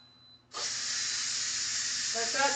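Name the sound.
steam hissing out of a steamer of cooked potatoes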